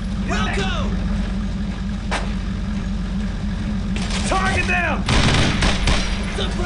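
Gunfire in a World War II battle from the game Brothers in Arms: Road to Hill 30, a loud, steady rumble of combat with scattered shots and bursts under shouted voices that rise and fall throughout.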